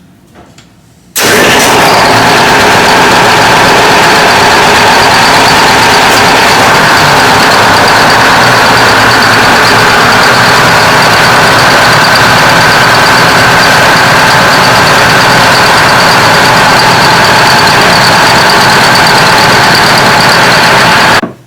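Detroit Diesel 8V71 marine engines in a headboat engine room start up after a brief quiet moment, then run as a loud, steady, close diesel roar with a constant drone that holds to the end.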